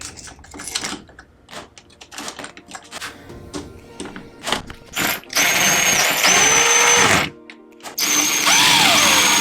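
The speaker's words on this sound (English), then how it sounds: "Then we use the 2 screws it came with to screw the sides of the lock together." Screws being driven to join the two halves of a door lock during a door and handle installation, with scattered clicks and handling noises followed by two sustained whirring bursts from a power driver, fairly close.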